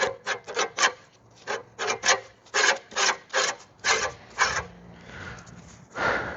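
A Webb WEH12R reel mower being backlapped gives a series of rhythmic rasping, grinding strokes, close and fairly loud, with brief pauses between them and a final softer rub.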